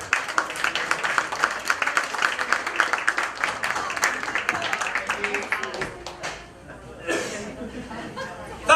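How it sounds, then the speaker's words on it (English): An audience at a Florida mentalism show claps steadily for several seconds as volunteers come up on stage, with chatter and a few chuckles mixed in before the applause fades. "Give them a round of applause as they make their way up"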